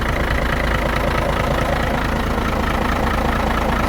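A Hino J08C diesel truck engine idles steadily after intake and exhaust work, a loud, close, continuous low rumble with an even knocking pulse and no talk over it.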